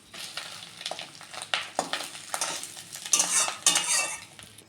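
A piece of fish roe fries in hot oil, an uneven close sizzle broken by clattering stirs and scrapes of a utensil against the pan, rising and falling without any voices.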